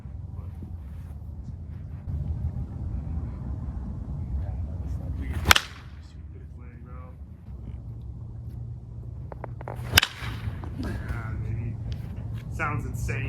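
A wood baseball bat in a drop-weight test is swung twice, each a sharp whooshing swish through the air, with low background noise and people talking between swings.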